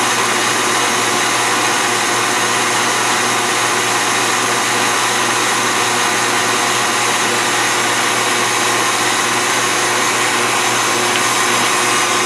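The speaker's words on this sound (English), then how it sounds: "With a hand mixer, you don't have to worry about it as much." Electric hand mixer whipping cream for homemade whipped cream, a steady high motor whir with a dense buzzing hiss, constant and close for the whole stretch, with no talk.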